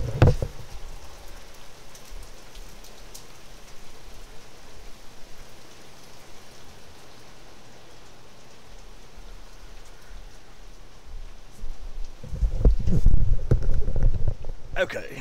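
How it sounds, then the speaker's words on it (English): Heavy rain pours outside a room as a steady, even hiss that fills most of the stretch, then a louder, rougher burst of sound rises near the end. "It's going to start pouring ass rain, so this is a noisy room"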